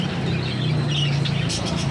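A Japanese rainbow hen and rooster give a few short, sharp squawks, mostly toward the end, above a steady low hum in the background.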